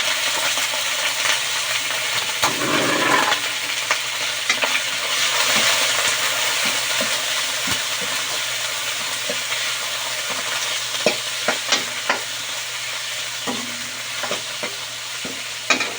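Chicken pieces stir-frying in a hot pan for pancit bato, a loud steady sizzle with repeated scraping and clinking of the spatula against the metal, close by, with no talking.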